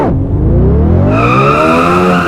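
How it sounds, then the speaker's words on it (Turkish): A Tofaş car engine in Euro Truck Simulator 2 revs hard and close, its pitch sweeping steadily upward and then holding high, loud and unbroken for about two seconds. "Tofaşımızla ara gaz vere vere."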